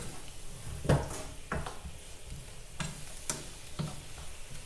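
Diced Spam and soy sauce are stirred in a hot pan, a faint steady sizzle carrying a few soft scraping knocks from the utensil against the pan.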